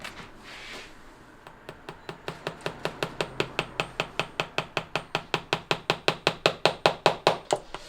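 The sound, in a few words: hammering a shoe heel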